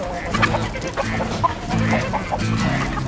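Several chickens cluck in repeated bursts, close by and fairly loud, with overlapping calls throughout.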